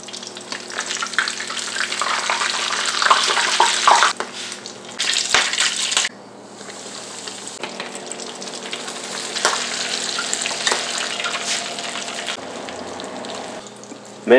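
A Creole corn crown fritter sizzles and crackles steadily in hot oil in a pot, with a brief break and occasional clinks from handling as the frying continues.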